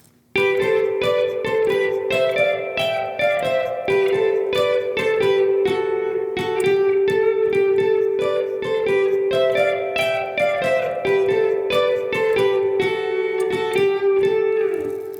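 An electric guitar plays the bright, repeating opening riff of a song with steady picked notes and a full band-like tone, loud and continuous throughout.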